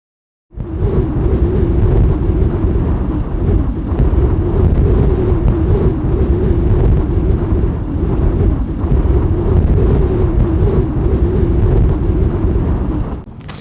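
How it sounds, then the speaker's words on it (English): Strong gusts of around 40 mph buffet the microphone outdoors on a desert run across Utah, making a loud, continuous low roar that starts abruptly and holds steady for the whole stretch with no talk over it. "We were having 40-mile-per-hour winds. As you can kind of see, it's still a little windy."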